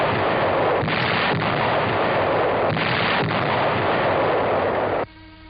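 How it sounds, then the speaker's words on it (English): Heavy howitzers firing in 1945 wartime Manila, rendered as dense, continuous rumbling booms with a couple of stronger blasts, loud and gritty like an old newsreel soundtrack, cutting to quieter hiss at the end. "entrenched Japs ahead are pounded by our heavy howitzers"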